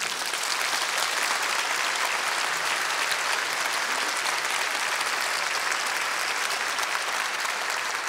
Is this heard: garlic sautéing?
no